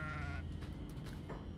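A small goat in the video game Kenshi lets out a brief, faint bleat against a quiet ambient game background.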